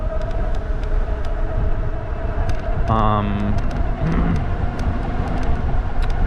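A car rolls close behind an ebike rider on a road, a steady engine and tire drone under wind noise, with a brief tonal whine midway and someone talking over it.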